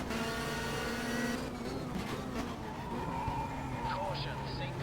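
A touring car in the Race 07 sim, 1992 BTCC season at Brands Hatch Indy, skids and scrubs its tires as it spins, a steady engine drone with squealing slides rising and fading over a few seconds, fairly quiet.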